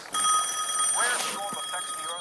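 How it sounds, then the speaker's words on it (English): A telephone rings in The Sitter movie trailer, a steady bright electronic trill running throughout while people talk over it. "Mom, the phone's ringing!"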